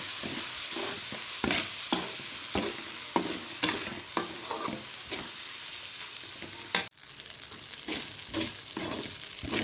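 Tamarind rice tossed with softened onions in a hot pan, a spatula scraping and stirring in repeated strokes over a steady bright sizzle of frying, heard up close with no voices.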